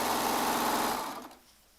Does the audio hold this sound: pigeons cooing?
no